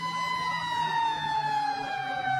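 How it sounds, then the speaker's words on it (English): Australian football ground siren sounding at three-quarter time in a league grand final, a long steady wailing tone held loud across the whole stretch with crowd noise underneath. "Just before the siren as well. Speaking of, there it is."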